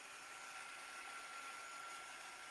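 A handheld dryer blows steadily on a fabric craft project, a continuous broadband whooshing hiss with a faint motor whine, close and unchanging throughout with no talking.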